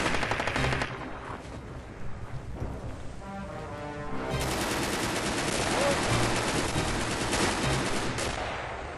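Video game gunfire, rapid bursts of automatic fire and scattered shots from a war shooter, loud and dense throughout with a brief lull, under faint talk.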